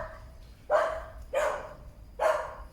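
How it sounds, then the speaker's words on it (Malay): Dog barking outdoors near a stand of bamboo by an old hotel, three separate loud barks spaced about half a second to a second apart over a quiet background. "Oh, anjing."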